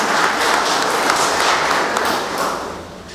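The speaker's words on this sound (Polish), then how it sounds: "proszę o gromkie brawa dla wszystkich organizatorów" Audience applause at a transport and logistics forum in Przemyśl, a dense, steady wash of many hands clapping for about three seconds, fairly loud and close, tapering slightly at the end with no talk over it.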